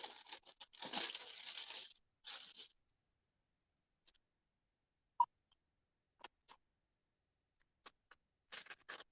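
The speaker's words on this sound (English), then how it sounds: "Let's fold this over." Paper being folded over while making a laser-cut beach tote: a burst of crinkling and rustling at the start, then sparse soft taps and small crinkles with quiet gaps, close and fairly faint.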